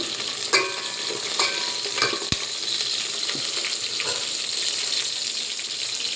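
Green chilies and onions sauté in a pan for sambar, giving a steady close hiss and crackle of frying with a few sharp clinks of a spoon against the pan.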